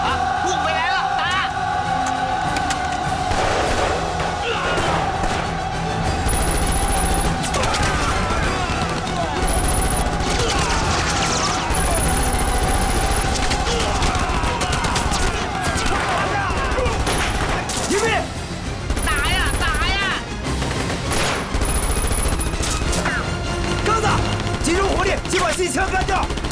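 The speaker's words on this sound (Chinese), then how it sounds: "先把机枪干掉" Sustained machine gun fire and rifle shots crackle through a battle scene in a Chinese anti-Japanese war drama, loud and nearly continuous bursts, with shouting voices mixed in.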